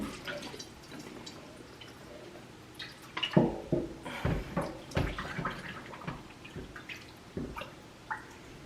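A turkey is lowered into salted water brine, producing quiet sloshing, dripping and splashing that grows busier midway, with soft handling noises and no talk.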